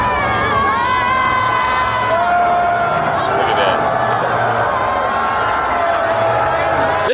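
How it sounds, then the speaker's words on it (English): A large crowd at a New York game booing Trump, a loud, sustained roar of drawn-out, jeering voices and cheers that fills the whole stretch without a break. "They booed him on the way out of town."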